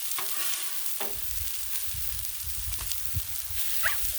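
Sausage patties are pressed flat with a spatula on a hot Blackstone griddle, giving a steady low sizzle with a few sharp scraping taps of metal on the flat top, close and without talk.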